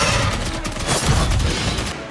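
Dense, continuous machine gun fire from the arcade shooter Contra Operation Galuga, a steady loud rattle of rapid shots with booming impacts blended in throughout, with no pauses.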